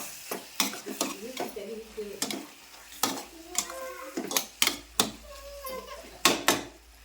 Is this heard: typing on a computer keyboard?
no